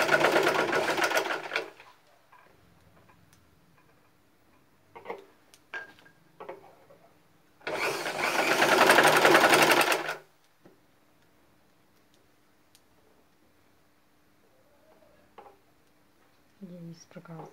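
A sewing machine stitches teardrop-shaped edges in two loud, close bursts with quiet handling noises and faint taps between them.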